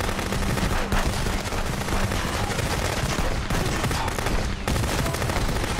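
Dense, loud gunfire in the video game XDefiant, rapid automatic bursts overlapping almost without pause for several seconds.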